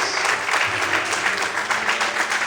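A church congregation applauds steadily during a sermon, a dense wash of many hands clapping throughout with faint voices mixed in.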